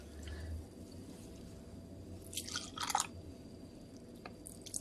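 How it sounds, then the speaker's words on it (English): Blended almond milk poured from a blender into cups: brief soft liquid pours and splashes in a quiet kitchen, with a couple of clustered trickling bursts near the middle. "we're going to pour it out into some cups here"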